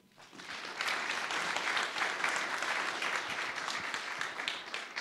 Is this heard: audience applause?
yes